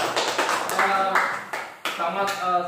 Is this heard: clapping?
yes